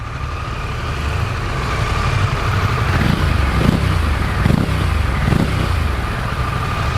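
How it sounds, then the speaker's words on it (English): A Harley-Davidson V-twin motorcycle with stock factory exhaust revs several times, the engine rising and falling in short bursts over a steady, rumbling idle. "this bike right here has the standard factory exhaust, and I'm going to have Alex rev it up"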